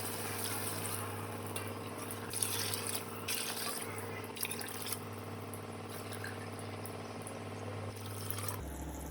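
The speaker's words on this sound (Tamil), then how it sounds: "இப்போ நான் அஞ்சு டம்ளர் தண்ணி ஆட் பண்ண போகிறேன்" Water poured into a cooking pot for tomato rice, a steady splashing and trickling run close by that continues for several seconds before stopping abruptly near the end.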